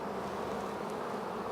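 A honeybee swarm settling into a box, a continuous dense buzzing hum, steady and close, with no voices.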